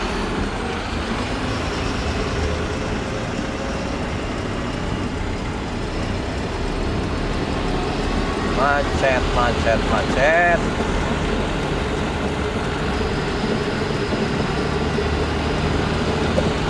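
Steady traffic rumbles past on an Indonesian toll road, heard from inside a moving car, with a few brief higher tonal squeals midway and faint talk in the background.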